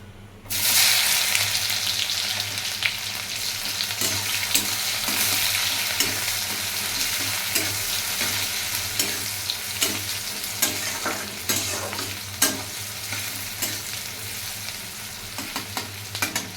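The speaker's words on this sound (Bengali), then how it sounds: "জিরেটা একটু লাল হয়ে গেলে পেঁয়াজগুলি দিয়ে দেব।" Cumin and onions fry in a pan with a steady, loud sizzle, and occasional soft stirring clicks cut through the crackle. No one speaks.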